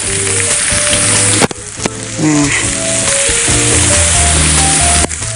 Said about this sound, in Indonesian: kita akan goreng sedikit lagi.